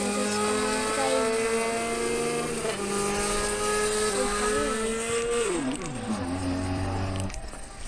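A car engine runs loud and close, holding a steady tone, then dips and shifts pitch as the gears change, with no talk over it.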